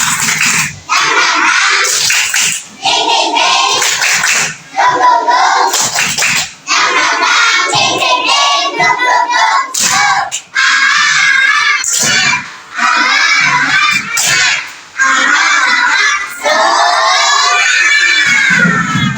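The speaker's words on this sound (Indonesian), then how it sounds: "coba tepuk semangat" A class of young schoolchildren performs the 'tepuk semangat' spirit clapping chant, loud shouted voices in unison punctuated by rhythmic bursts of group claps in repeated short phrases, with brief pauses between sections.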